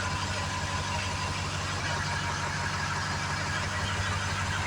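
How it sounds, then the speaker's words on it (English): A Ford F250/F350 dump truck engine idles steadily up close, a loud, even, low rumble with a slight knocking throb and no talk. The crank and start itself is not evident, only the running idle. "Might take a couple cranks at first to start up."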